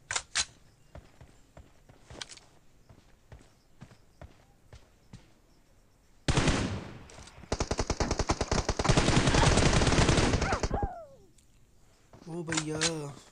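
Gunfire in a team deathmatch shooting video game: scattered single shots early, then long loud bursts of rapid automatic fire for several seconds, fading before a short final burst.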